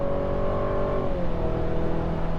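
A 2026 Chevy Colorado ZR2 pickup's engine roars under hard acceleration from 60, a strong continuous drone with the pitch shifting as it kicks down, heard from inside.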